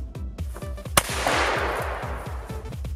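A pistol fired at a cookie lets out one sharp crack, then a sustained noisy wash and a rapid rhythmic mechanical clatter running throughout.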